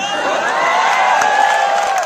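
A large crowd at a political speech in India cheers and shouts loudly together, a dense roar of many voices with whoops rising above it.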